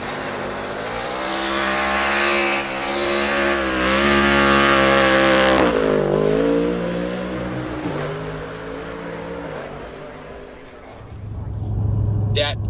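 Ford Mustang GT3 race car with a 5.4 V8 and DCT gearbox revving hard, its loud engine tone climbing and falling through several sweeps, then settling to a lower rumble near the end.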